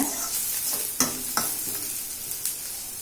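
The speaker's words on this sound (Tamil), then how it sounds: "வெங்காயம் நல்லா வதக்கணும் இப்போ வெங்காயம் நல்லா வதங்கிட்டுங்க" Onions sautéing in a pan give a soft continuous sizzle broken by several sharp spatula scrapes and taps as they are stirred, close and without speech.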